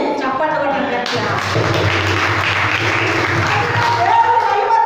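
A church congregation bursts into loud, sustained clapping after a short opening stretch of talk, the dense applause carrying on to the end with a voice still speaking over it.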